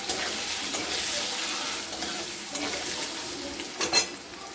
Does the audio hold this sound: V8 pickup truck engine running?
no